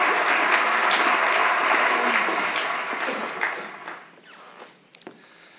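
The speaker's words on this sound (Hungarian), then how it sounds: "Tapsoljuk meg!" Theatre audience applauding at a live Hungarian stage comedy show, a dense sustained clapping that gradually thins out and fades into a few scattered claps and small noises.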